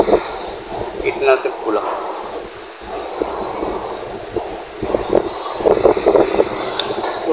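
Strong typhoon wind roars steadily in the dark during a blackout in Biliran province, a constant rushing noise running under people talking throughout.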